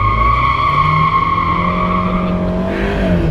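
A 2017 Fiat 124 Spider's engine revs hard for a brake-torque launch, a loud, steady close-up drone whose pitch climbs toward the end.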